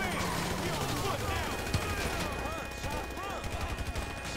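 Steady gunfire from shooting people in Grand Theft Auto 5, a continuous crackle of rapid shots mixed with game noise and a voice talking over it throughout.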